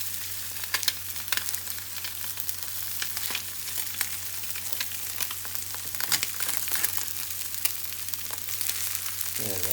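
Eggs fry in a pan with a steady, close crackling sizzle, broken by occasional sharper pops and a faint scrape of flipping, over a low electrical hum.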